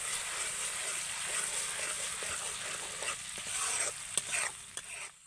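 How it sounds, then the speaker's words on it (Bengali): Ginger, garlic paste and green chillies stir-fry in hot oil for a prawn curry, giving a steady close sizzle with scraping stirs and a few sharp utensil clinks near the end. "আমি বেটে রাখা আদা রসুন আর কাঁচা লঙ্কা এগুলোকে দিয়ে আমি একটু ভালো করে নেড়ে চেড়ে ভেজে নেব তেলের মধ্যে"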